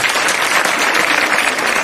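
An audience at a school Teacher's Day program applauds the girls with a dense, steady wash of clapping from many hands. It is fairly loud and close.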